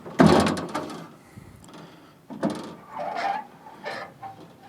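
Glass sliding in a Ford Bronco door as it rides over the regulator roller during a beltline and glass run install, giving several scraping, rubbing bursts with a sharp knock at the start, close by.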